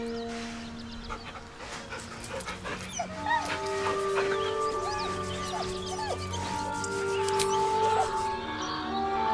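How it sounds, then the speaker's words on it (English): A dog in the video game Baldur's Gate 3 whimpers nervously, with repeated high whines and yips over soft background ambience. "The dog whimpers nervously"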